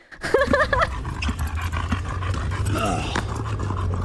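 An old dog pants and whimpers close by, with a brief run of high whining cries early on, then steady breathy panting over a constant low hum.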